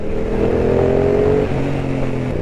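A Yamaha R7 GYTR motorcycle accelerates hard on a racetrack, its engine holding a loud, steady, rising drone that shifts pitch partway through, alone without speech.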